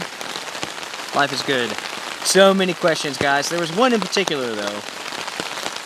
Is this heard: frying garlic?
no